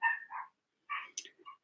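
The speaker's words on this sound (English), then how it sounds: "I'm sorry if you can hear my dogs barking." Pet dogs barking indoors, a short burst of a few sharp yaps, then a pause and two or three more barks, fairly near and moderately loud, with no talking.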